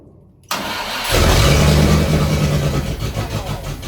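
A Land Rover fitted with a V8 engine cranks and catches, then settles into a loud, rough idle with a few uneven throttle blips.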